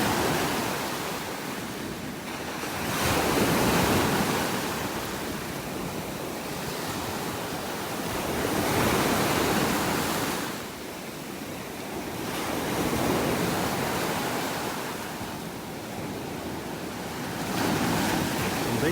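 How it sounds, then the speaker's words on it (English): Gulf of Mexico surf rolls and crashes into dead trees on a beach in North Naples, Florida, a broad roaring wash rising and falling every few seconds with wind noise on the microphone. "these waves crashing into the dead trees"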